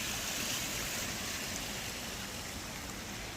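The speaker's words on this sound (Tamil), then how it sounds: "எவ்வளோ தண்ணி நிறைஞ்சு போகுது பார்த்தீங்களா" Floodwater rushes through a street after rain as a continuous, dense, fairly soft wash of flowing water, steady with no pauses.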